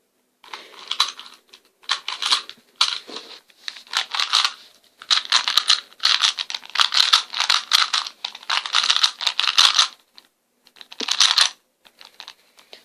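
A 3x3 Rubik's cube is scrambled by hand, its plastic layers turning in quick, rattling clicks and clacks in rapid, uneven bursts with brief pauses, close and fairly loud.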